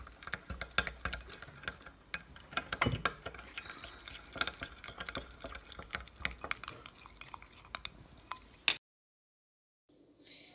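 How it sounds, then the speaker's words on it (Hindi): A homemade honey mustard dipping sauce with black pepper being mixed in a bowl: rapid, busy clinking and scraping of a spoon for several seconds, fairly faint, then stopping abruptly into silence. "अब हम इसको अच्छे से मिक्स कर लेते हैं।"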